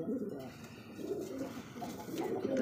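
Pigeons on a large pigeon farm in Bangladesh coo in low, rolling phrases that repeat close by over a soft background murmur.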